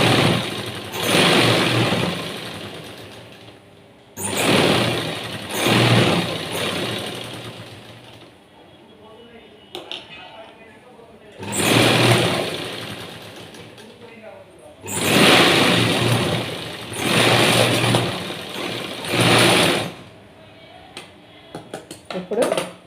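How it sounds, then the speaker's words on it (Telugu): Sewing machine stitching a blouse in bursts of several seconds each, with pauses between runs and someone talking over and between the stitching. "ఇలాగే రెండో స్టిచ్ కూడా వేసుకోవాలి."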